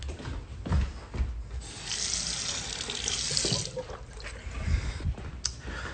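Water runs from a kitchen tap into a sink to fill a glass for a drink, a steady close rush of flow with small splashes and clinks, louder in the middle.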